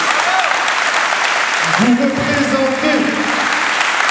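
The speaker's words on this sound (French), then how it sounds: "vous pouvez vraiment vous applaudir pour le travail que vous avez accompli cette année" Volunteers at Une Rose, un Espoir 2024 in Algrange applaud themselves, a dense wash of clapping from a crowd that runs steadily throughout, with a voice speaking over it midway.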